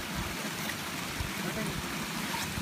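Water flows steadily over the intake screen of a small hydro installation, a constant dense rushing and gurgling wash, close and uninterrupted.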